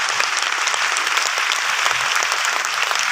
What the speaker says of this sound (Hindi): मैं चाहूंगा एक बार जोरदार ताली से